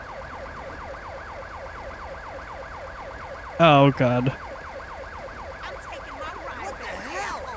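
Rising and falling ambulance siren from the video game GTA V wails steadily and fairly close, with a short loud exclamation from a voice partway through and traffic noise beneath.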